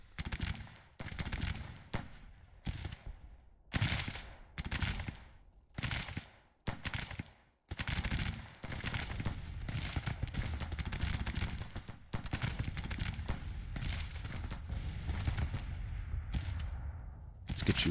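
Infantry brigades firing in Grand Tactician, an American Civil War strategy game: rapid bursts of musket volleys and scattered gunshots crackle repeatedly, merging into a dense continuous rattle of fire.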